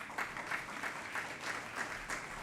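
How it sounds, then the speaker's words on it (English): Light applause from a small audience at a mentorship networking event in Newport, a soft steady patter of clapping at a modest distance with no one speaking. "So I just want to applaud"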